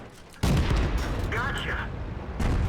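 Tank cannon in the World of Tanks video game, a sudden loud blast followed by a sustained rumbling boom, with a brief game voice cue in the middle and a second burst at the close.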